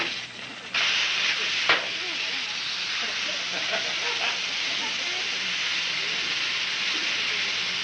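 Chicken frying in a pressure fryer gives off a steady, loud hiss of escaping steam that fills the whole stretch, with a brief louder burst near the start and faint voices beneath.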